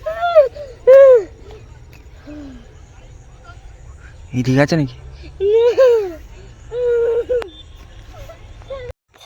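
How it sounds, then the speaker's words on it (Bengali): Jackals howl at night near an open field, several wavering, falling cries rising in bursts at a moderate distance over a low steady hum, with people talking quietly between the calls. "গাইস শিয়াল শিয়াল চিল্লাচ্ছে এখানে।"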